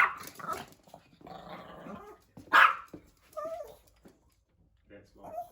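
Dobby the dog barks sharply and growls close by in short, uneven bursts mixed with whimpers, while a person talks intermittently over the noise.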